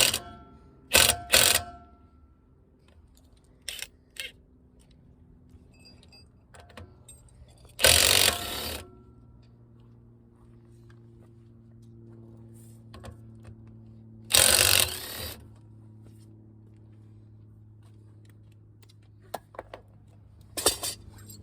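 A ratchet spins and clicks in short bursts while the wheel lug nuts come off a Ford EcoSport, with two louder whirring runs and scattered metallic clinks over a low steady hum.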